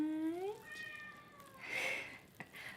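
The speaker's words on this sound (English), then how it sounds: "she's meowing in the background" A cat meows in a home kitchen during toffee brittle making, one rising meow followed by a longer drawn-out call, fairly faint and heard against quiet background noise.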